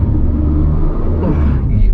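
A Toyota Veloz, Mitsubishi Xpander or Suzuki Ertiga attempts a hill start on a wet, sandy, slippery incline, its engine a loud close rumble that rises briefly, with a voice speaking over it.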